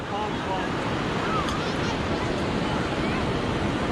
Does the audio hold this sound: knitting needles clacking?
no